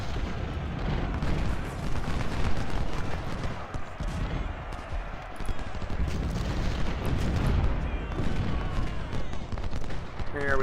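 Cannon fire in a Civil War battle in Ultimate General: Civil War, dense overlapping booms and crackling volleys rolling on without pause, loud and continuous with a dull rumbling undertone.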